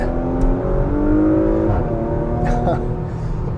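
A 2021 Porsche Macan GTS accelerates hard with its sport exhaust in sport mode, the engine note climbing steadily and loud up close, shifting partway through, while a voice talks over it.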